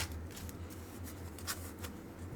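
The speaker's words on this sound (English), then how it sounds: "We're going to shuffle one more time." Tarot or oracle cards being shuffled by hand in a quiet room, a soft continuous riffling and papery flutter with brief brighter snaps, fairly close and faint, no talking.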